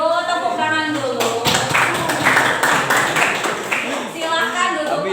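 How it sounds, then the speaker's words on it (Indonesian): A group in a meeting room claps hands in applause for a few seconds. The clapping is loud and bursts in suddenly, with voices talking before and after it. "Kalau setuju tepuk tangan dulu."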